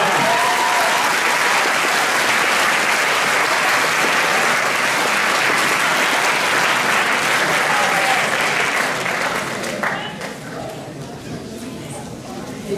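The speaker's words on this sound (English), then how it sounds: "Another round of applause." A concert audience at a spring junior music concert gives a long, full round of applause, dense and loud for most of the time before thinning out toward the end.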